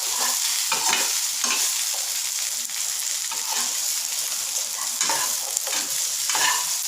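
Kolukattai rice dumplings with salt and chilli sautéed in a pan, heard as a continuous close sizzle broken by rhythmic bursts of stirring and scraping every second or so, with no voices.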